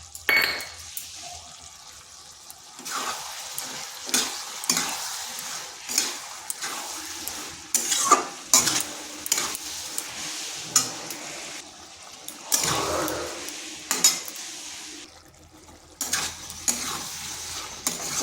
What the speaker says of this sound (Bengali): এটাকে বেশ কিছুক্ষণ কষে নিচ্ছি, যাতে আদার কাঁচা গন্ধটা চলে যায়